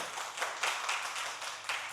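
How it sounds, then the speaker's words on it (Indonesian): Brisk applause from a room of people, dense and continuous for a couple of seconds, close and moderately loud. "ibu rumah tangga, tepuk tangan dulu"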